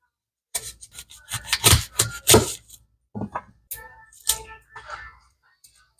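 Knife cuts and crunches through a garlic bulb on a board, a few uneven scraping strokes with short pauses, close and dry.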